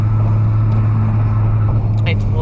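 A Honda K24 engine swapped into a car idles steadily up close, a deep, constant drone with a strong low hum and a brief rise in engine note near the end. No one speaks.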